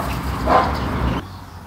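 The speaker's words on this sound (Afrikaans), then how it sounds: "Hierdie ene blaf verskriklik baie." A Chihuahua lets out a short, high bark with a whiny edge, close and loud over a steady noisy background that drops away near the end.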